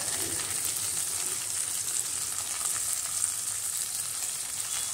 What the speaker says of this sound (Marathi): आणि आता हा मसाला जो आहे हा चांगला परतून घ्यावा.